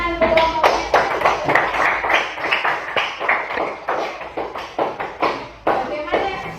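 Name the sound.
schoolchildren clapping for a group in class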